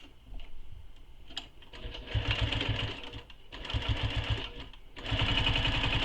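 Sewing machine basting the open edges of a quiver sling with a long top-stitch length, short bursts of rapid needle chatter separated by brief pauses, close and clear.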